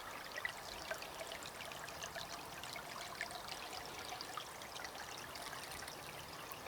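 Meltwater from ice on a swamp trickles out into small creeks, a faint, steady watery babble with light splashy detail running throughout and no voices.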